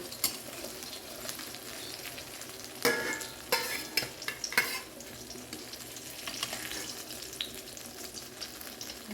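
Eggplant slices fry in oil for begun bhaja, a steady close sizzle with sharper bursts and scraping clatter around the middle as pieces are turned, then settling back to an even hiss.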